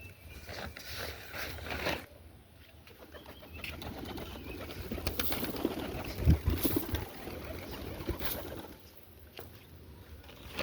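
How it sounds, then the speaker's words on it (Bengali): Domestic pigeons, including local desi golla, giribaz and army breeds, coo softly in a loft amid a rough, noisy background, with low murmuring calls rising and falling over about ten seconds. "এই যে গাইস আমার কবুতর,"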